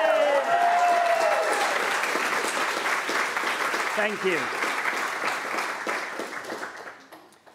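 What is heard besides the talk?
audience applause for quiz team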